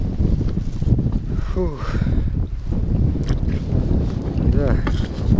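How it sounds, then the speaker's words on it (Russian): Strong gusty wind buffets a boat out on a lake in stormy weather, roaring and rumbling against the microphone, with a short exhaled voice and faint creaks under the steady blustering. "Сильный ветер."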